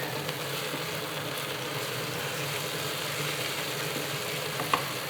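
Tomato paste frying in a pan for penne alla vodka, a steady close crackling sizzle that holds evenly throughout with one small clink near the end, no talk.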